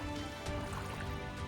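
A huge flock of roughly a thousand birds on the Mississippi River makes a dense, continuous chattering wash, like steady rain, with no clear individual calls standing out.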